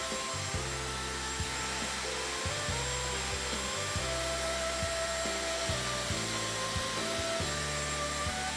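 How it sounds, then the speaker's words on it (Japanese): A hair dryer blows steadily while a bob haircut is shaped and styled, its motor hum shifting in pitch in short repeated steps as the airflow is moved around the head, close and continuous with no talking. "ドライヤーで形付けていきます。"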